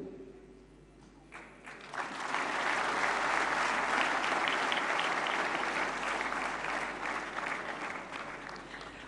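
Audience applause at the Dadasaheb Phalke Award presentation, 68th National Film Awards ceremony: dense, steady clapping from a large crowd that swells after the first two seconds and holds strong, with no talking.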